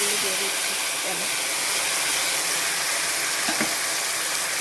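Mustard and poppy seed paste frying in hot oil gives a steady, loud hiss and sizzle that runs without a break, with faint voices briefly underneath.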